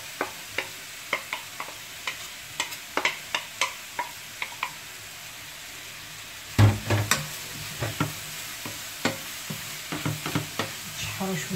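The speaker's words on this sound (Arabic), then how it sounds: "نشحرو شويه، عاد نزيد المقادير الاخرين" Peppers and minced meat filling sautéed in a pan, with a steady run of light scraping stir strokes and soft sizzling, then a louder clatter partway through and continued stirring.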